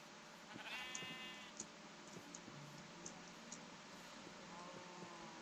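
Sheep in Minecraft bleat in a few short, clear cries over a steady background hum, with faint ticking clicks scattered through.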